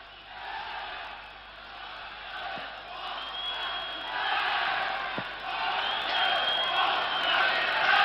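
A packed ice hockey arena crowd roars and cheers for Czechoslovakia against the USSR at the 1971 World Championship, a sustained, swelling wall of voices with whoops and shouts rising louder toward the end.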